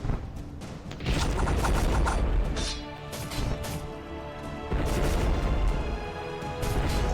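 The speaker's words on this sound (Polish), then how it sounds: "Te wybuchy i tak dalej." Dense, continuous rumbling explosions and crashing blasts from the video game Epic War 4, loud and chaotic, with several bursts of heavy booms back to back.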